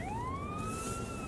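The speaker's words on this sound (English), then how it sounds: "Oh, there's another police car." A police car siren wails past in a town street, two rising tones sweeping upward and leveling off, loud and continuous against a low rumble of traffic.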